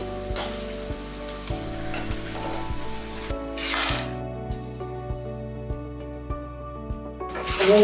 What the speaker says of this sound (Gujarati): હવે આ જ તેલમાં આપણે જારીવાળી વેફર પણ તળી લઈએ.